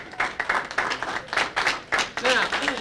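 A live audience claps irregularly and fairly close, with scattered hand claps mixed with voices and cheering over about three seconds.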